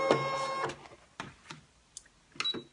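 A Brother ScanNCut cutting machine unloads its cutting mat: a brief whirring mechanical drive up front, followed by a few softer clicks and short motor whines in a quiet room.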